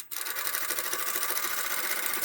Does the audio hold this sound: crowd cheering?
no